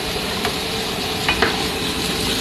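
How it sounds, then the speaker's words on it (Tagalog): Tofu and chayote sautéing in olive oil give a steady close sizzle with a few brief stirring clicks and scrapes, continuous and fairly loud with no talk. "Salutin natin. Kasi ayoko ng prito."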